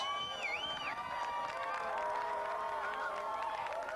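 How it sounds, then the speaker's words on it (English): A crowd of spectators at a girls' high school soccer match cheers and shouts steadily, fairly distant, with whistles and high excited voices rising over a continuous roar of applause. "Mavericks are cheering because it's going to go their way"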